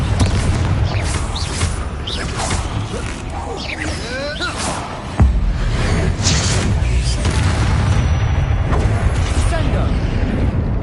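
A Confringo spell explosion in the video game Hogwarts Legacy: a booming blast with crackling, whooshing debris amid other game combat sounds, loud and close, while a voice speaks spell names.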